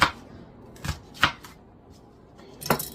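A knife chops red, yellow and green bell peppers into bite-sized pieces on a cutting board, a few sharp, separate knocks spaced irregularly and heard up close in a quiet room.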